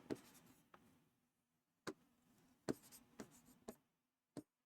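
Pen scratches on paper as the numbers 5, 4, 3, 2, 1 are written by hand, a series of short quiet strokes and taps separated by brief pauses, close and faint with no talk.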